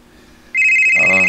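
A telephone rings for an incoming call, a sudden loud electronic tone that cuts in after a quiet moment and holds steadily to the end.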